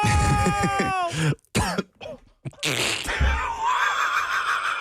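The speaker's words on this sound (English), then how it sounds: "A cough just snuck up on me when you said it." A laugh breaks into a few harsh coughs up close, with brief gaps between bursts, then a noisy rush of breath as it settles.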